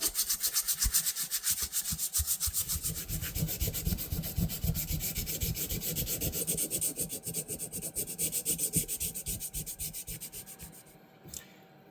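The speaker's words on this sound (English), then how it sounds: "using the foam pad, because I use pretty heavy sandpaper here, so it's kind of scratchy" Heavy, scratchy sandpaper on a foam pad rubbing an antique fisherman knife, a loud, close, steady back-and-forth rasp in fast even strokes that slows and fades near the end.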